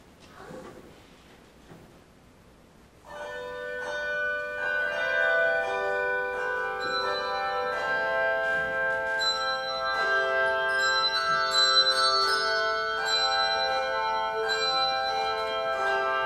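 A church handbell choir plays during a Lutheran worship service after a few seconds of quiet, ringing bell tones layering into a sustained, resonant melody that grows fuller as the piece goes on.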